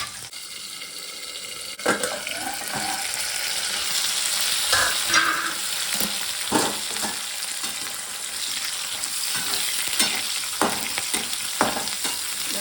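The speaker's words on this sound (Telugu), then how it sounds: "బాగా వేయించుకోవాలి. నల్లగా అవ్వకూడదు ఉల్లిపాయ." Onions and dal frying in a pan, a steady close sizzle with repeated stirring scrapes and occasional clinks running throughout, no voices.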